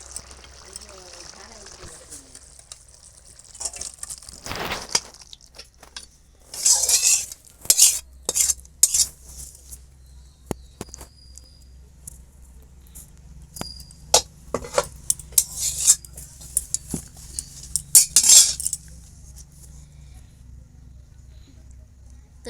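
Spoon scraping and clinking against a pot while paneer curry is served out, irregular metallic taps and scrapes clustered in bursts, fairly close, with quiet gaps between.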